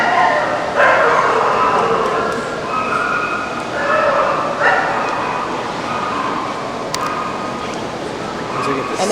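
Female dogs at a dog show yelp, yip and whimper in short high bursts scattered across a loud, busy hall, with crowd chatter and general noise running underneath throughout.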